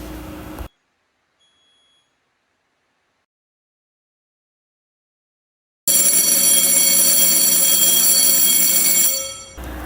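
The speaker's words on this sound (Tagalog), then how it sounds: "isang alarm device na tumutunog kung may na-detect na usok sa paligid" Silence, then a smoke detector's loud, piercing alarm tone sounds steadily for several seconds before cutting off.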